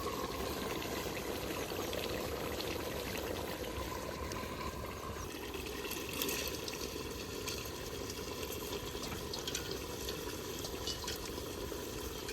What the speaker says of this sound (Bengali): এই যে তেলে এখন মসুরির ডাল দিয়ে দিই